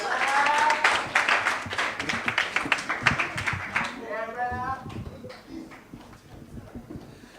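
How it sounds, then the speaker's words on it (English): An audience at a Lions Club contest applauds the participants with a burst of clapping that fades after a few seconds, then quieter sounds and some voices follow. "Let us give all the participants here a round of applause"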